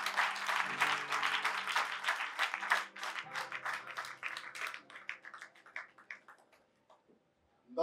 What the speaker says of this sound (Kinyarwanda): Tubahereza amashyi.